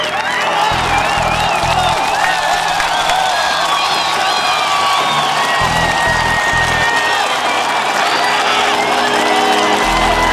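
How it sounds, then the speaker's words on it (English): A conference session crowd breaks into a big round of applause mixed with whoops and cheers, loud and sustained for about ten seconds, with no talking over it. "bring together your hands for a big round of applause"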